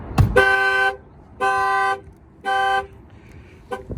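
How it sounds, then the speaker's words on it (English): A Dodge Challenger's alarm sounds its horn in three loud, evenly spaced blasts, followed by a short final chirp. "So when the alarm fires off"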